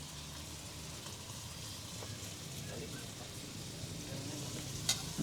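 A ladle stirs food frying in a cooking pan, giving a steady close sizzle with soft scraping movements throughout and a brief metallic clink near the end.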